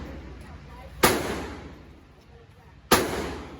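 Two sharp gunshots crack at a gun range about two seconds apart, each loud and close with a short decaying tail, over faint background talk.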